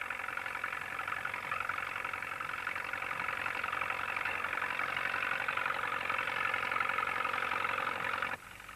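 A steady tractor engine drone runs throughout at moderate loudness, then drops off abruptly near the end.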